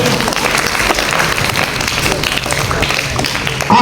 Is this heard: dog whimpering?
no